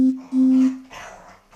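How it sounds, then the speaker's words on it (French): A dog lets out two loud, strained, sustained cries in quick succession, then its noise breaks into rougher, fainter yelps, all close by. "Le chien est en train de péter un câble."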